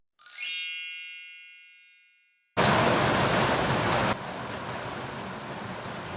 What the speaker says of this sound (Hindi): बाहर हो रही है ज़ोरों की बारिश